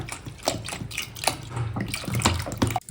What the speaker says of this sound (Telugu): సో ఆ బాటిల్లో ఉన్న ఉలవ నీళ్ళని ఇందులో పోసేసాను.